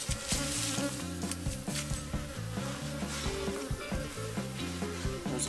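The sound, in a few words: honeybees buzzing around a beehive being split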